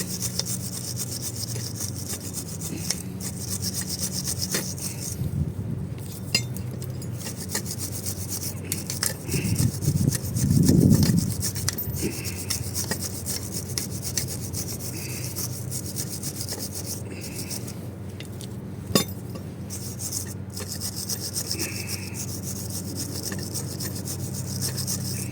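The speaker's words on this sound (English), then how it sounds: "that's always good to have a wire wheel" A wire wheel scrubs rust and crust off a Kia Sorento front brake caliper bracket and its bolts, a steady close rasping grind lasting most of the span, swelling louder for a moment midway, with no talk.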